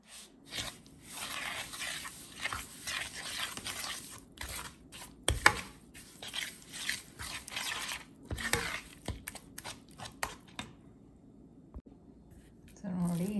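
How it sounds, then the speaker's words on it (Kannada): Vegetable handvo batter with cauliflower being stirred and mixed in a bowl, irregular close squelching and scraping strokes in short bursts, with a brief pause near the end. "ಸೊ ಈಗ ಇದನ್ನೆಲ್ಲ ಮಿಕ್ಸ್ ಮಾಡ್ಕೊಳ್ಳೋಣ."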